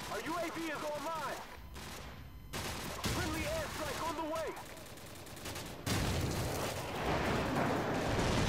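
Gunfire from the Call of Duty 4: Modern Warfare Team Deathmatch video game comes in repeated bursts and volleys, loud and close, mixed with voice-like game sounds.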